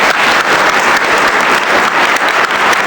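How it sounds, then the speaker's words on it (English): A conference audience gives a steady, dense round of applause after a policy speech, loud and close with many hands clapping together for the whole stretch. "I think a big round of applause to David."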